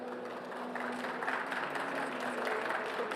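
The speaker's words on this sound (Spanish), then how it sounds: "la despedimos con muchos aplausos" Applause from an audience at a nursing awards ceremony, a steady dense patter of many hands clapping at moderate distance for the whole stretch, slightly swelling midway, with no voices over it.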